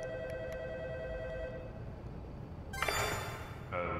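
A telephone rings in the Roblox horror game Time In The Past, repeated electronic rings over a low ambient hum, followed by a brighter louder burst of tones near the end.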